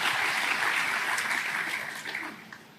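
A church congregation applauds during a Sunday morning service, a dense wash of clapping that starts full and gradually thins and fades over a few seconds, with faint voices mixed in.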